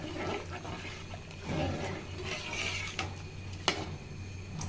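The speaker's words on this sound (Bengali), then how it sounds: "চালগুলো দিয়ে সঙ্গে সঙ্গে নাড়া দিয়ে নিতে হবে" Rice poured into boiling water in a pot and stirred while cooking beef kacchi biryani, giving a steady close bubbling and sloshing with a few sharp clinks of a utensil against the pot.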